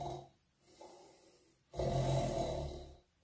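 A singer in a traditional folk song imitates snoring with his voice, drawing out two rasping breaths, a quieter one and then a louder, longer one, with no other sound around them.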